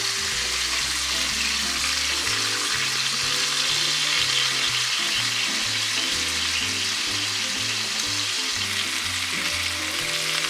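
A marinated ribeye steak searing in a hot pan, giving a loud, continuous close-up sizzle and crackle that holds steady throughout without any talking.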